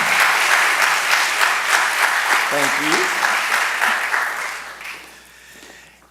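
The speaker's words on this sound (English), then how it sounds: "Let's give them a round of applause." Loud audience applause at an awards ceremony greets the stage managers, dense clapping that carries on with a brief spoken thanks over it, then thins and fades away toward the end.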